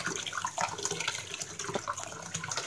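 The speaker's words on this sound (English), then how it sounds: "Wash the red lentils." Water runs and splashes while red lentils are washed in a saucepan, a steady close wash of sound.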